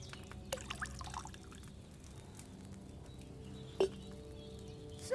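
Wine poured into a cauldron in the video game Kingdom Come Deliverance II, a soft steady trickle of liquid running low and faint throughout, with one brief brighter splash near the end.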